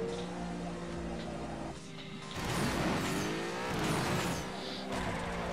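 Cars in the video game Jet Cars Stunt driving along, with a continuous engine drone, rising and falling revs and skidding tire squeals, heard alone at a moderate level.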